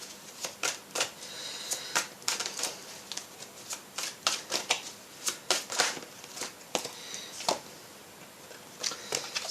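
Oracle cards are shuffled by hand in quick bursts of crisp riffling and slapping, close and fairly loud, with short pauses between the rustling runs.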